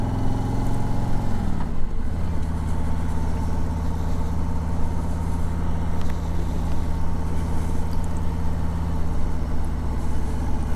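A Harley-Davidson Electra Glide Revival motorcycle on its first ride, its engine rumbling steadily and close with a low, even drone and a brief shift in pitch near the start, with no talking.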